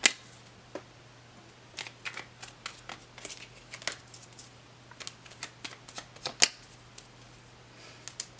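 Tarot cards being shuffled and handled close by: light papery riffles and sharp flicks in scattered bursts over quiet, ending with a few soft taps, no talk.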